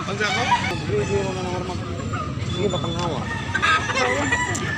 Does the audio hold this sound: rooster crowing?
yes